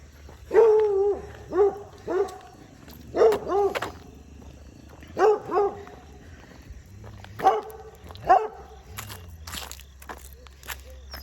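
A 12-week-old puppy gives a series of short whines and yelps in spaced bursts, fairly close, over a low steady background hum, with other dogs nearby.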